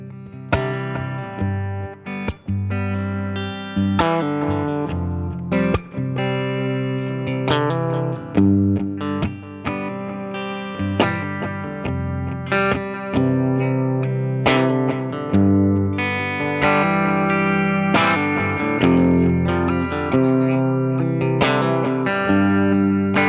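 A Panucci Telecaster electric guitar played through a Chase Bliss Brothers AM drive pedal into a Two-Rock Classic Reverb Signature amp, giving a loud, overdriven, reverberant tone with rhythmic strummed chords and riffs and no talking.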